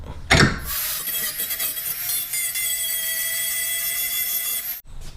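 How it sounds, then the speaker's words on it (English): A worn Dremel bit grinds burrs off metal parts of a Supra turbo setup, a sharp steady whine with a high buzzing edge lasting several seconds after a short scrape, then stopping abruptly. "after hitting it with the Dremel to get all those burrs out"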